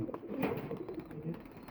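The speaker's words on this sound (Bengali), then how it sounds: "এটা নাসুর কবুতর নাসুর জাতের জিরার সাথে জোড়া দিছে" A Nasur breed pigeon, newly paired with a Jira, gives soft, low cooing in a few short bursts, quiet and close.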